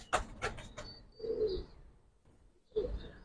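Giribaz and khaki pigeons coo close by in a few soft, low bursts, separated by short pauses.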